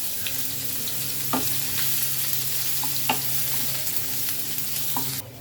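Chopped onion and a bay leaf fry in hot oil in a kadai with a constant loud sizzle, while a few soft scrapes and taps of a spoon come through the hiss.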